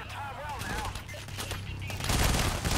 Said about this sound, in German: Ich räume ein Magazin nach dem anderen da rein.